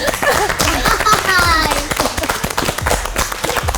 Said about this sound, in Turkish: Emre'yle bir alkış